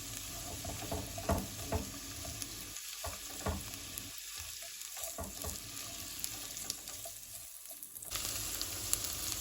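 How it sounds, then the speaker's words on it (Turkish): Chopped onions added to carrots, sautéing and sizzling steadily in a pan, with a continuous frying crackle and occasional scraping stirs, close up with no talking. "kuru soğanlarını ilave ediyorum havuçların üzerine. Biraz da soğanlarla birlikte kavrulsunlar."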